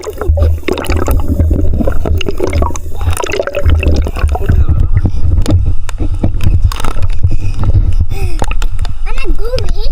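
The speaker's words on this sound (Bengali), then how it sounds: "আমি এখন অনেক কষ্ট করে এক হাত দিয়ে সাঁতার কাটছি।" Water splashes and churns continuously and loudly as someone swims with only one hand in deep water, with a person talking throughout over the sloshing.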